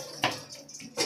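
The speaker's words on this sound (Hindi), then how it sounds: "बर्तन धो रही हैं आप," Dishes are washed under a running kitchen tap at home, with a soft stream of water broken by two sharper splashes or clinks at the start and end of a brief moment.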